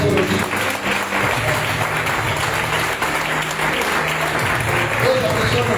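Congregation applauding in a church during a Lord's Supper service, a steady dense wash of clapping throughout with voices and music running underneath.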